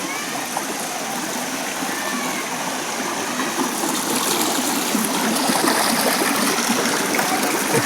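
A stream of water near a hillside temple rushes and trickles steadily close by, a broad, continuous wash that grows slightly louder toward the end.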